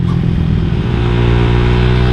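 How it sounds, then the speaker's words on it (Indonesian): A motorcycle fitted with a BRT 63mm engine revs hard and steadily, a loud, close, continuous engine roar with no talk. "gue masih suka banget sih geber-geber pakai motor ini"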